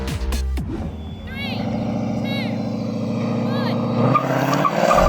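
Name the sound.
cars launching in a drag race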